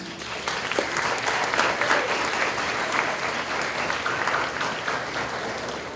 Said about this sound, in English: give a round of applause for our guests, please